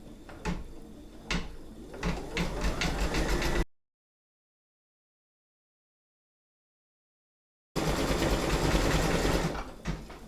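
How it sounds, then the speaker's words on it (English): A Brother V5LE sewing and embroidery machine stitching in steady rapid mechanical chatter with a motor whir, stopping abruptly, then resuming loudly after a silent gap. "if I put the foot down and carry on, it should carry on stitching"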